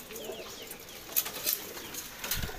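Pigeons on the flat roof of a rural dera give soft coos and brief bursts of flapping wings, fairly faint over a dull background with a few short rustling flurries.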